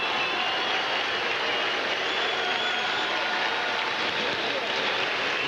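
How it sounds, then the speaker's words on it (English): Baseball crowd at a St. Louis Cardinals home game against the Astros, applauding and cheering for Bob Dole's appearance as a steady, loud roar of the full stadium, with a broadcaster's voice over it. "Crowd reacting as Bob Dole makes an appearance here in St."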